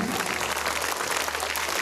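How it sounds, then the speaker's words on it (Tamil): An audience at a school annual day claps in a short, dense burst of applause that holds steady throughout, with a faint voice audible beneath it. "கைதட்டுங்க."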